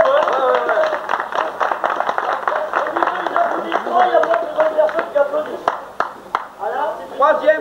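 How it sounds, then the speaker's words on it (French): Outdoor crowd clapping for finishers at a comic triathlon in Sillé-le-Guillaume, scattered rhythmic claps running under continuous talking and a loudspeaker voice. "on peut les applaudir encore une fois"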